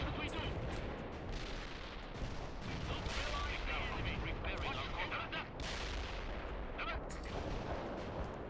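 Gunfire in the war video game Conflict, with tanks on a hill: a continuous, dense din of distant shots and rumbling battle noise with sharper cracks scattered throughout, while someone talks over it.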